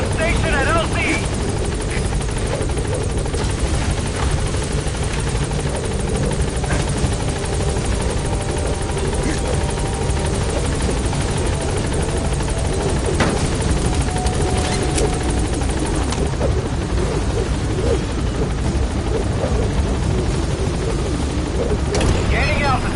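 The Pequod helicopter from Metal Gear Solid V: The Phantom Pain arrives at a landing zone, its rotors thudding in a loud, continuous roar that stays close and unbroken throughout.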